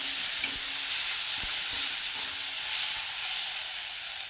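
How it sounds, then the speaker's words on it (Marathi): Green chilies sautéing in a pan for a village-style chickpea-greens dish, a steady broad sizzle with soft stirring scrapes, close and continuous with no talk. "मिरची छान अशी परतली एक मिनिटासाठी अशी परतून घ्यायची"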